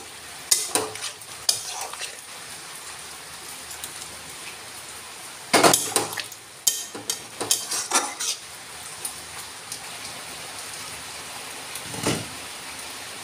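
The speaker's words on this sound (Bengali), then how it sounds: "ভিজিয়ে রাখা পনিরটা জল সমেত দিয়ে দেবো। বাকি দেব গরম করা জল।" Soaked soya paneer and hot water are added to a pan: bursts of clattering and stirring against the pan alternate with a steady sizzling hiss, close and fairly loud, with no talking.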